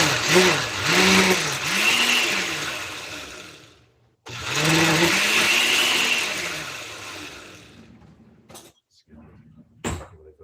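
A blender pulses ingredients until creamy, its motor whirring loud and close in two long bursts with a rising-and-falling pitch, separated by a short pause and followed by a few clicks and knocks.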